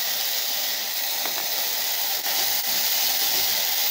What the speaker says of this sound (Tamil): காயை போட்டு நல்லா வதக்கணுங்க.